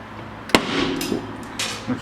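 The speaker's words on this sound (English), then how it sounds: "it's the spot welds in here breaking" Spot welds break with a sharp metallic crack as a crashed R32 drift car's damaged body panel is pulled, followed by a few quieter creaks and groans of stressed sheet metal, close by.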